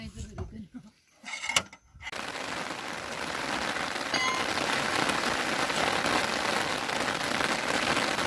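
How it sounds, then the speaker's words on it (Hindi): Steady rain falls in a forest, hissing densely on leaves and surfaces; it comes in after a couple of seconds of quieter mixed noise and grows slightly louder, continuing throughout. "दोस्तों, आपको दिख ही रहा होगा कि यहाँ बारिश हो रही है अभी"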